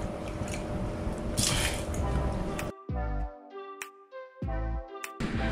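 Water being removed from a guppy fish tank, with a steady wet squishing and sloshing for a few seconds, then several separate drips and splashes, close and moderately loud.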